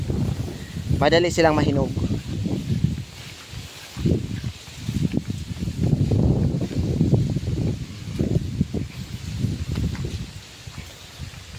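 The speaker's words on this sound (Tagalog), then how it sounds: "malakas talaga ang hangin, naririnig naman siguro nyo" Strong wind buffets the microphone throughout, a steady rushing roar beneath a person talking.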